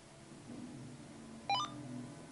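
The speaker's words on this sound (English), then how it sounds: "Makes a little beep, gives you this welcoming screen here." A Uniden 436 radio scanner gives a single short electronic power-on beep, a quick rising chirp of tones, heard up close and alone over a faint room hum.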